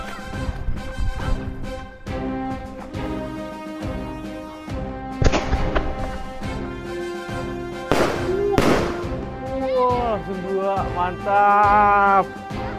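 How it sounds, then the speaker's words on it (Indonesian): A rapid string of Dragon Ball firecracker pops and crackles goes off with whistles and fizzing, while voices call out in the background. "petasan Dragon Ball atau petasan tuyul kita bilang ya"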